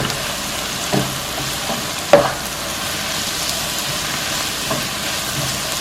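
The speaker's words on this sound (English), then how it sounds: "I let it fry for a few more minutes before I add the shrimp in" Chili powder and turmeric frying in a pan for Kerala-style shrimp fry, a steady soft sizzle with a few clinks and scrapes from stirring, no voices.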